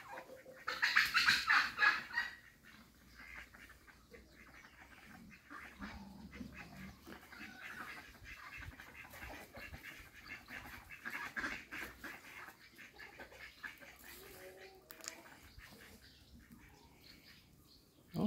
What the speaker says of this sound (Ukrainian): Ось такі дикі качки в утриманні.